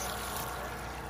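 Water pours and rushes steadily from a pump outlet outdoors on a property where a shipping container house is being built, a continuous, fairly loud wash of flowing water with no pauses.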